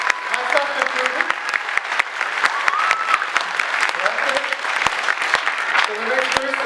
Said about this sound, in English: we can have a round of applause for the folks up here as well.